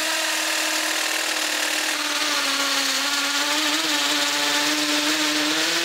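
A power drill bores into a house wall in one continuous, loud, close whine whose pitch wavers slightly as it bites, with no voices over it.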